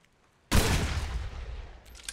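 A shotgun in the pirate video game Blazing Sails fires one sharp, loud blast that booms and decays over about a second and a half, with nothing around it.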